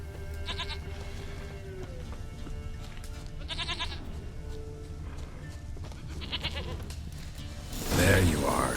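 A goat in the video game The Witcher 3 bleats three times in short, wavering cries spaced a few seconds apart over ambient game sound, followed by a louder rustling burst near the end.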